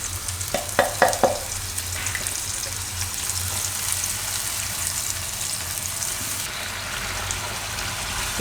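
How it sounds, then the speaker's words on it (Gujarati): Tomatoes cooking in a pan for spicy Maggi: a few sharp utensil clinks and stirring scrapes at the start, then a steady soft sizzle close by, with no voices. "તો ટમેટા આપણે થોડીક વાર પકાવી લીધા સારી રીતે."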